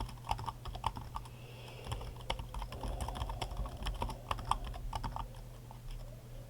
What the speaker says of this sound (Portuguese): vou digitar aqui o resto